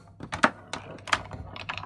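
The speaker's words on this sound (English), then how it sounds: "I'm so happy to find one of these, the Model F keyboard, with the square badge" Typing on an IBM Model F keyboard from an IBM 5160 PC/XT setup, a few loud, crisp key strikes spaced irregularly, heard up close with no talking.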